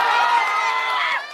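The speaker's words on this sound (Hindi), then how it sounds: "ताली मत बजाओ भाई," Crowd noise at an outdoor political rally in Kishanganj, Bihar, a dense broadband roar of clapping and cheering that stays steady and loud, then eases off near the end.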